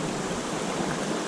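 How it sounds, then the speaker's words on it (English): River water flows along the Middle Prong Trail in a steady, full rush of broadband noise with no pauses, sounding fairly close. "I could hear the water, but I wasn't sure like how close it was"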